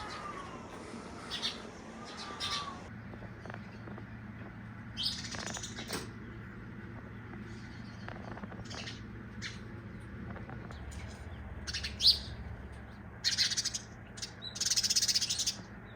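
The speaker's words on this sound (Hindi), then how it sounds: "चिड़िया भी आ चुकी हैं।" Birds in a village on a cold foggy morning, with faint scattered chirps and bursts of wing flapping heard at a distance over a quiet outdoor background.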